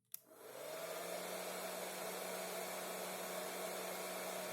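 A hair dryer switches on with a click and runs steadily, a constant whirring hum close by, plugged into a 220V power meter.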